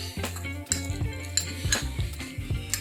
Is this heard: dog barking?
no